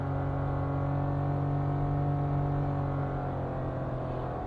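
Suzuki Swift GL+ hatchback with a 1.2-litre engine and CVT automatic, steady engine drone from inside the cabin as it shifts down a gear, continuous and fairly loud with no talk.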